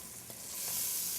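Garlic dropped into a hot pan sizzles steadily, the frying hiss swelling slightly after a faint stir, close and alone.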